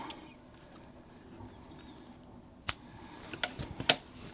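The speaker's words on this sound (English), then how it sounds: "now I'm gonna cut my yarn" Crochet yarn snipped with scissors after finishing a pouch: a few sharp, close clicks and cuts in quick succession near the end, following a quiet stretch.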